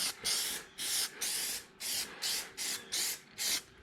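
Spray paint can coating a car wheel black during dechroming of a Ford Explorer: eight short, loud hissing bursts in a steady rhythm, each about a third of a second, separated by brief pauses, close up with no talk.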